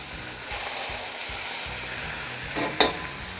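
Chicken gizzards, liver and pork sizzle steadily in a hot pan, a dense close frying hiss with a brief louder clatter near the end and no talking.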